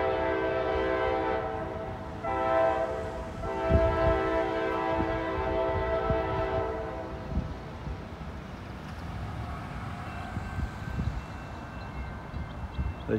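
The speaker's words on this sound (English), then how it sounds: "We got another train coming through Hamilton." A Union Pacific freight train of auto racks passes through town, sounding a long multi-tone horn in several blasts over a steady rumble of rolling cars, heard from a moderate distance.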